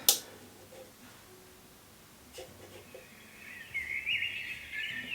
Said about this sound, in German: Das ist eine sogenannte Zwitscherbox. Und die Zwitscherbox, ich mache die euch mal an.